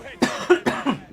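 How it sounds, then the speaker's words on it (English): Four quick, harsh coughs come close to the microphone in rapid succession from someone with an allergy, each a sharp burst, with nothing else around them. "as you can hear from my cough"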